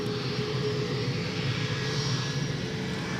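A Delta jet airliner on its takeoff run from runway 17 at Minneapolis–St. Paul Airport makes a steady, loud engine roar with a broad rushing drone and no voices.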